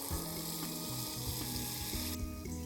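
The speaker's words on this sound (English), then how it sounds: "It's all planted, now we're watering." Water pours steadily onto the soil around a newly planted peach tree in a home garden, a continuous hiss under low, steady background tones.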